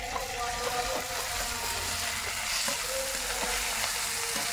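Onions being fried and stirred in a pan give a continuous close sizzle, with faint scraping strokes of the stirring spoon ticking through it at irregular intervals.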